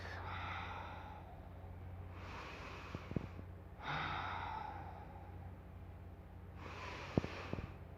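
Slow breathing in a yoga class, three long audible exhalations spaced a few seconds apart, fairly quiet, with a few faint soft knocks in between and no speech.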